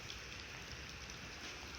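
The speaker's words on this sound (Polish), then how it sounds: "coraz mocniej pada, trzeba uciekać do domu." Rain falling outdoors in wintry, snowy weather, a steady, even hiss of dense drops with no pauses, fairly faint and heard alone without voices.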